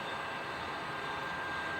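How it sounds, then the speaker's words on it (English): A 15 kW electric motor fan blower in a hammer mill plant, drawing dust and sawdust, gives a steady, unbroken broadband roar with a faint whine, loud and constant throughout. "with an 15 kilowatts electric motor fan blower, sucking the dust and"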